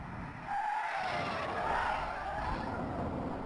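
A state trooper patrol car's tires skid and squeal during PIT maneuver training, a sustained, loud screech over a roaring engine, recorded up close from a car-mounted camera.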